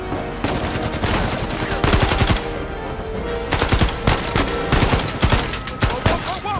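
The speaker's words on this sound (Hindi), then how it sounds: "एक पीछे से फायरिंग कर रहा है।" Rapid automatic gunfire in the video game Uncharted 4, bursts of loud shots packed close together with brief gaps, continuing across the whole stretch with no talk over it.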